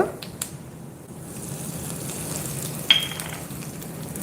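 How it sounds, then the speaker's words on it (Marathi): Mustard seeds and spices sputter in hot oil for tempering, a soft, low steady crackle with a faint clink of a pan partway through. "मोहरी छान तडतडली फुलली येस आता गॅस बंद करते नाहीतर मग फोडणी करते"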